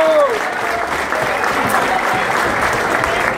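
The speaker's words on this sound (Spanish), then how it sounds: "¡Fuerte aplauso para él!" Loud, steady applause from an audience at a sport fishing tournament awards ceremony in Villahermosa, Tabasco, filling the whole few seconds, with a brief whistle near the start.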